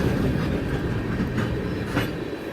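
A long train rolls steadily along railway tracks close by, a continuous heavy rumble with faint clacking from the wheels and no voices.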